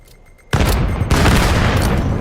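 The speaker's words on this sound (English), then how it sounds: "Caesar firing off his PM9 again." Rapid PM9 gunfire in a VR video game match bursts in suddenly after a quiet moment, a dense loud stream of shots with a brief gap before a second sustained burst.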